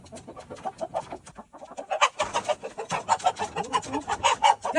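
Chickens cluck repeatedly in short bursts, fairly close, with the clucking growing busier and denser toward the end.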